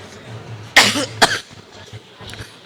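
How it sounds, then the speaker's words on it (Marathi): Two sharp coughs break into a man's Marathi political speech at a public rally in Beed, loud and close on the microphone, the second following about half a second after the first over a quiet hall. "माफ करा मला खोकला असल्यामुळे मध्ये मध्ये डिस्टर्ब होत आहे"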